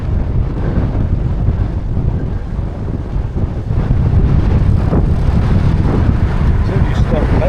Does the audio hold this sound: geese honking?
no